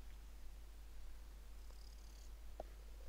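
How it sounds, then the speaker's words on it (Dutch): A house cat purring very faintly and close, a soft low steady rumble under quiet room noise with a few small rustles, no talking. "Ja, hij zit te spinnen."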